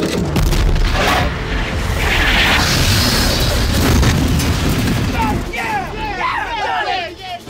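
Tank cannon fire and explosions in a 1996 war-film battle scene: a dense roaring boom and rumble fills most of the stretch, then fades into whistling, crackling debris, with shouted voices mixed in.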